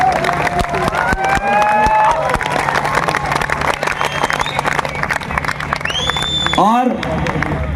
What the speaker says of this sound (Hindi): तालियां उत्तराखंड वाली होनी चाहिए।